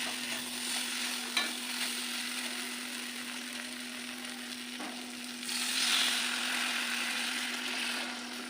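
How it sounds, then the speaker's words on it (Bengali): Egg tarka frying in a pan as the water from boiled dal is poured in and stirred, giving a steady close sizzle that swells into a louder hiss partway through, with no voices. "সেই জলটা দিয়ে দেবো।"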